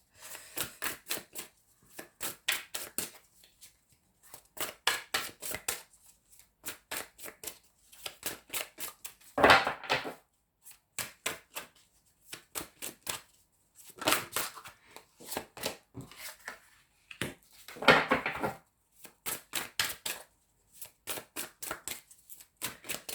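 Tarot cards are shuffled in repeated quick riffling bursts, crisp and close, with short pauses between rounds and no talking.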